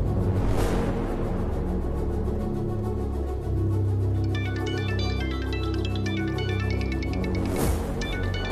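A phone rings during a call, playing an electronic ringtone as a repeating melodic pattern in the middle of the stretch, with a couple of short whooshing sweeps at the start and end.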